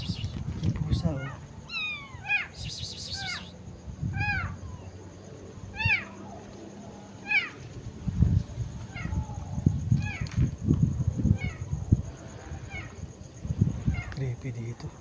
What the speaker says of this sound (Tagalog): May pusa oh.